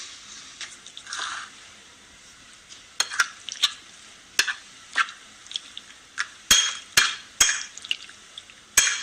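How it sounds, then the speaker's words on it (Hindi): Marinated chicken fries in a frying pan with a low, steady sizzle. Repeated sharp spatula scrapes and clacks against the pan come in irregular bursts, getting busier toward the end. "चिकन को हमने मैरिनेट कर लिया है, अब इसे फ्राई कर लेते हैं।"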